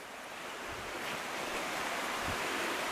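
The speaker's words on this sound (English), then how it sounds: "And so there's the river through here." Clear river with a good flow rushes steadily as a broad, even wash of water noise, soft and continuous with no voices over it.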